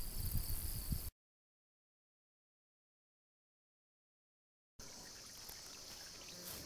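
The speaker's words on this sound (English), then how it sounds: "This is a stream that's very nice." A stream on the Appalachian Trail flows with a soft, steady trickling rush, heard close and even before a silent gap, then returning at a similar gentle level.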